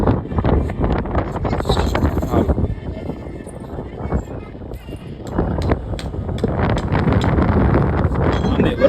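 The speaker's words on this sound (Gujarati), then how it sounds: "અને પવન આવે જોરદાર મસ્તી." Strong wind gusting across a rooftop during rainy weather, buffeting the microphone as a continuous loud rumble that eases briefly midway, with voices faintly mixed in.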